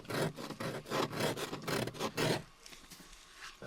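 Ice being scraped from the inside of a car windshield after an ice storm: a close, rough rasping in quick repeated strokes for a couple of seconds, then stopping into quiet.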